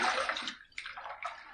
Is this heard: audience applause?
no